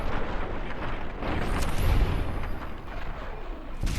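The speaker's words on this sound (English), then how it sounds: "In the middle of a gunfight and I'm here." Sustained gunfire and explosive booms fill a Fallout: New Vegas gunfight, a dense, continuous roar of shots with a few sharper blasts near the end and no voices.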